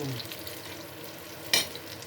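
Meatballs (Frikadellen) sizzle steadily in hot oil in a frying pan, with a single brief scrape-and-stir at the midpoint rising over the constant crackle; no voices.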